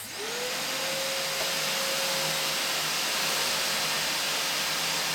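A shop vac runs in blowing mode to clear a clogged filter, giving a loud, constant close-up roar of rushing air with a thin steady whine through it, and no talking.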